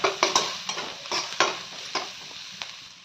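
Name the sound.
frying spices for stuffed tomato curry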